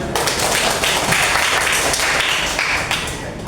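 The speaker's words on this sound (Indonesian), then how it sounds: "Kita tepuk tangan untuk semua." Group applause at the end of a teacher's lesson, a steady dense wash of many hands clapping together, fairly loud and sustained throughout with no pauses.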